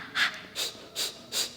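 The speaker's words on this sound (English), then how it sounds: "I do some panting exercises where you pant like a dog" A person pants like a dog as a breathing warm-up, four quick, breathy huffs in an even rhythm, close and alone.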